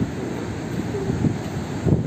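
Strong wind buffeting a microphone on a beach at night at Pantai Batakan Baru during extreme weather, a steady rough roar with low gusty thumps and surf-like wash beneath, no voices.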